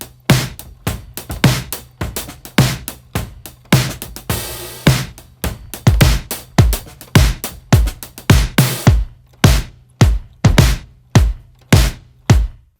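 Produced disco drum beat with snare, room mics and overhead cymbals, a steady four-on-the-floor pattern of punchy kicks and crisp snare hits with a brief cymbal wash midway, loud and close with no voices.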